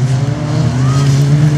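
Race cars in a junior specials heat driving down the back straight, a loud steady engine drone with tonal whine, continuous and close.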